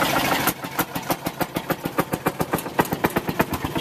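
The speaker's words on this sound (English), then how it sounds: "you can see the flywheel turning in there. It's getting warmed up." A 1948 Fairmont M19-F rail speeder engine warming up, sharp single-cylinder pops firing in a loose, slightly uneven rhythm, loud and close, with no talk over it.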